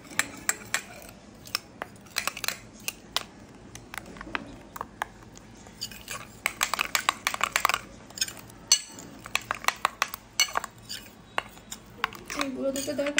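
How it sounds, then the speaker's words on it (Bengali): A spoon stirs powdered milk for custard in a bowl, making steady light clinks and scrapes against the dish that come in quick irregular bursts throughout. "আগে গুঁড়ো দুধটা একটু মিক্স করি।"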